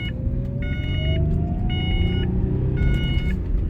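A 1993 Ford Probe GT engine hums steadily while driving, a continuous low rumble with a slowly rising whine, joined by repeated beeping tones in short bursts.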